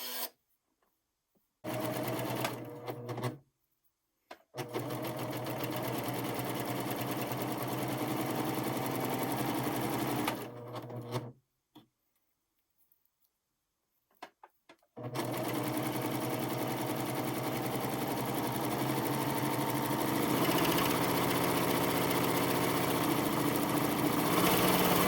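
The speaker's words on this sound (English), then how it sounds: "do the 3-thread flat lock stitch over the top for a decorative effect" An Admire Air 7000 serger sews a decorative 3-thread flatlock stitch, its motor running in long steady bursts with sharp starts and stops and two brief pauses, loud and close with no talk.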